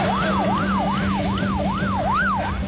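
Ultra-fast ambulance siren wailing in a steady, repeating rise-and-fall pattern, loud and close, with a constant engine drone beneath it.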